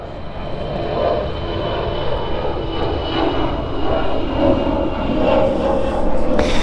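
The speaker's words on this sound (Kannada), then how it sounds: "ಎಂತ ಸಣ್ಣ ಮಕ್ಕಳ ಹಂಗೆ ವಿಮಾನ ನೋಡ್ಲ ಬೈಂದು ಮಾರೆ ಚೆಕ್." An airplane passing overhead near Devanahalli outside Bangalore, a loud sustained engine roar that holds steady and swells slightly as it goes by, with no voices.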